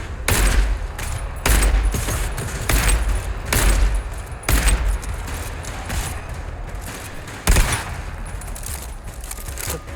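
A gun in a mining-themed shooter firing in loud, punchy repeated shots spaced roughly a second apart, each with a heavy low thump and echoing tail, over constant background noise and no talk.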